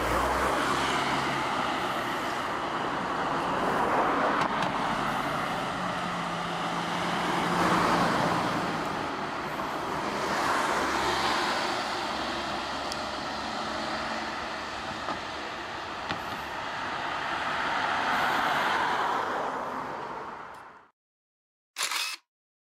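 A Seibu 2000 series commuter train pulls away in a rail yard with a sustained rumbling roll and rising, swelling motor noise, loud and close, ending abruptly followed by a short burst.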